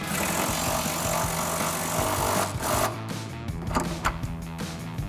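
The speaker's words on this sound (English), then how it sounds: "grab our impact and 21mm swivel and tighten that down" An impact wrench with a 21mm swivel socket drives a rear subframe bolt on a 2015-2025 Ford Mustang, a loud continuous rattling hammer that runs for several seconds and then breaks into shorter bursts, with no talking.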